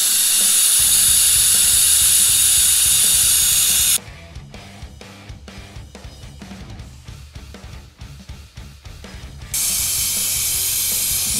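Hydraulic hiss and pressure building in an oil extraction pump during a mini excavator oil change, loud and steady at first, then a quieter stretch of irregular clicking and ratcheting pulses before the hiss returns.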